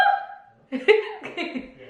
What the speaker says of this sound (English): Oh my god, if I have hiccups this whole video.